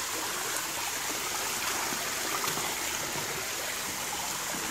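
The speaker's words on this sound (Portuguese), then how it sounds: "fez uma cachoeira natural no fundo do lote dele. A água tá indo." A small waterfall built at the back of a backyard lot, with fish kept nearby, pours in a steady, even rush of flowing water, close and continuous with no voices.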